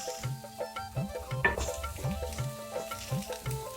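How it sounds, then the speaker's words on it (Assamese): Ginger-garlic paste frying in a pan for an Assamese potato fish curry, a soft continuous sizzle broken by rhythmic stirring strokes and light scraping of the spoon. "আদা নহৰু পেষ্টখিনি দি অলপ সময় ভাজি ল'ম"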